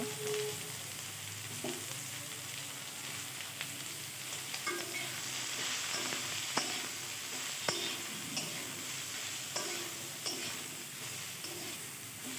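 Bottle gourd pieces with turmeric and slit green chillies fry in a pan under a steady, close sizzle, with scattered clicks and scrapes from stirring.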